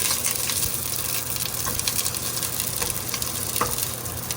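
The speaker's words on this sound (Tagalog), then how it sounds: "So, inuuna talaga yung onion. Igisa natin." Onion sautéing in oil in a pan for pork sinigang, a constant close hiss of frying with occasional soft stirring ticks, no voices.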